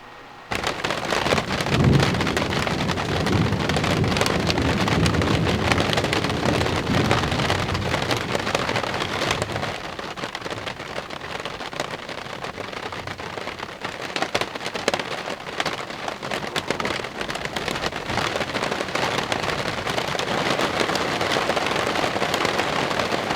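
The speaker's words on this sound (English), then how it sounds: "The rain is gently pitter-pattering." Heavy rain patters and drums on a surface during a thunderstorm, a dense continuous hiss with sharp drop impacts, loud and close, easing slightly midway before building again, with no voices.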